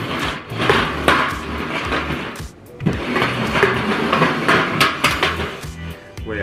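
Hard candies rattle and clatter against each other as they are shaken and mixed in containers, a dense, busy run of clinks and knocks that briefly drops out near the middle, with no talking.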